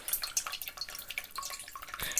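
Water trickling and dripping through a homemade filter of funnel and thick rice layer, a steady patter of close, light drips and splashes running continuously without pause.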